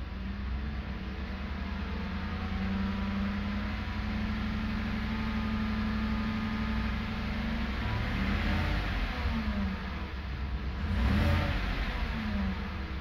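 Car engine accelerating during a test drive while a diagnostic scan tool reads live data, a steady mid-pitched engine hum rising slightly as revs build, heard from inside the cabin with no talking.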